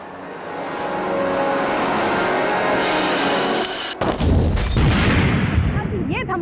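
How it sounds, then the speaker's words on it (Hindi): A gas cylinder explodes with a sudden loud boom that cuts through a steady roar, followed by rumbling and clattering debris. "ये धमाका किसी गैस सिलेंडर के फटने से हुआ है"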